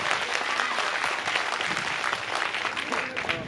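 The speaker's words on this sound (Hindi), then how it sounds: "एक बार जोरदार तालियां।" A large audience at a Bhagavat Katha applauds with dense, sustained clapping that stays loud throughout.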